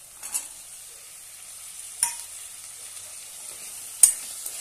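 Boiled black chickpeas are stirred in a pan for pulao, producing a faint, soft sizzle broken by a few distinct scraping clinks of the spoon against the pan.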